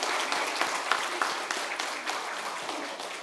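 Congregation applauding during a Sunday church worship service, a steady wash of many hands clapping at moderate level, with a few sharper individual claps standing out over the dense patter.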